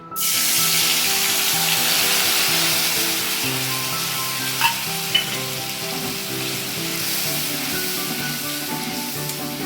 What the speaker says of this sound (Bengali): একটু গরম গরম হলে এই মিক্সটা এর মধ্যে ঢেলে দিচ্ছি